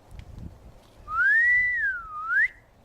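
A single rising and falling human whistle, clear and fairly loud, sliding up, holding, dipping, then rising again before stopping, over faint background rumble.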